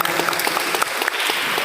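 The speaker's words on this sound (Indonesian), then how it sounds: "Tepuk tangan untuk kita semuanya" Steady, dense applause fills an Indonesian seminar hall in Ponorogo after a round of patriotic cheering, loud and continuous throughout with no break.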